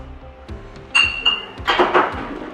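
Glass beer bottles clinking and ringing together during home bottling of a dark beer, several sharp close clinks with a brief ringing tone in between.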